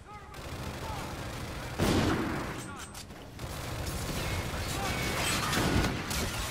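Sniper rifle gunfire booms in a Call of Duty: Infinite Warfare zombie match, with heavy shots in a dense, loud mix of game noise and other weapons, while players' voices talk over it.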